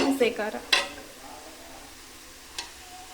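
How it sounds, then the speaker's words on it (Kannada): Green chili being mixed into a pan of vegetable pulao, with a few quick scraping stirs and clinks at the start, a lighter tap later, and a faint sizzle underneath. "ಹಸಿ ಖಾರವನ್ನು ಹಾಕ್ಕೊಂಡು ಮಿಕ್ಸ್ ಮಾಡ್ಕೊಳ್ಬೇಕು"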